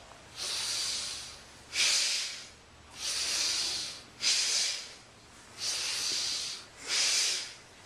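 Deep, powerful breathing during a Kundalini yoga kriya, six strong rhythmic breaths about every second and a quarter, each a loud close airy rush through nose or mouth with short pauses between, no talking.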